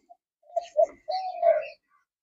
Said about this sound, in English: I don't know if it's the same bird, but then it is the same bird, of course.